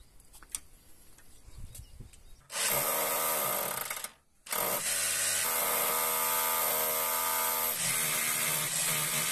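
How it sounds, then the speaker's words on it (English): An SDS drill with an SDS bit bores through wood on a farm, a loud continuous whining grind that starts abruptly, stops briefly and then resumes steadily, preceded by quieter handling noises. "when you drill through wood with an SDS drill bit"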